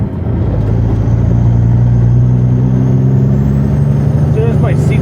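A Western Star logging truck rumbles loud and steady along a winter road with a deep engine drone, its rattle building as it runs over a bump.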